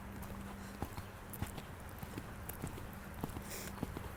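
Horse hooves clip-clopping in a steady canter rhythm at a riding lesson, with distinct irregular hoof strikes over a low arena background hum, fairly faint and no talk heard.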